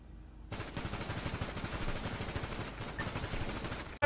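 Gunfire in a GTA V roleplay highway chase, a long rapid automatic burst of shots hammering steadily and close for several seconds after a quiet start.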